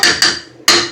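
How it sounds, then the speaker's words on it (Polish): Three quick metallic clanks of a lid knocking onto a pot of simmering mushroom and vegetable sauce, close and loud, each ringing briefly. "co mam w garnku, przykryję na chwilę pokrywką."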